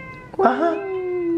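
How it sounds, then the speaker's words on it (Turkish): A cat gives a single drawn-out meow close by, rising and then holding a long steady note, with a person briefly speaking just before. "Bu kedi oğlum."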